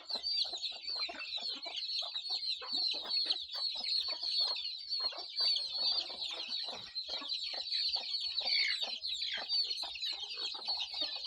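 Native chickens clucking continuously in a flock, a busy overlapping chatter of close, steady calls with no pauses.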